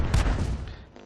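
A tank gun fires once in World of Tanks, a heavy close boom with a short rumbling decay lasting about a second.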